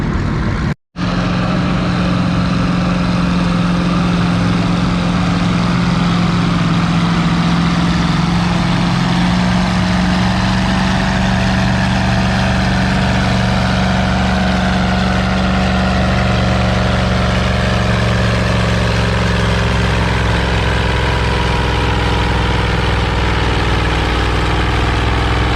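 Big tractors at a tractor pulling contest on a slippery surface rumble with a loud, sustained engine drone and steady low hum that persists throughout, close and unbroken apart from a brief cut near the start.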